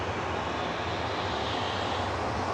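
A TUI airliner departs Manchester Airport bound for Palma, its engines giving a steady, broad roar that holds evenly throughout with no voices.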